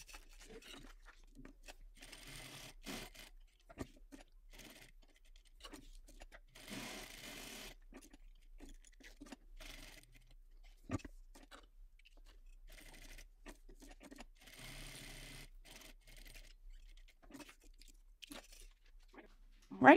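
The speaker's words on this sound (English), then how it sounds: "we're going to go to our sewing machine and we're going to edge stitch, top stitch, all the way around our rectangle" A sewing machine edge stitching and top stitching around a fabric rectangle for a crossbody bag, heard as quiet bursts of motor whir that start and stop, with small handling clicks between runs.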